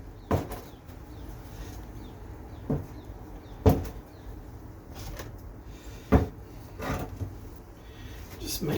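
Door being opened and closed while clearing up during home garden work, with several sharp knocks and clunks scattered among low rustling handling noise and faint birdsong in the background.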